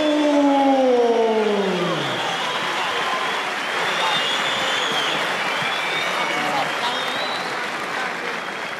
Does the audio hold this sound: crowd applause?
yes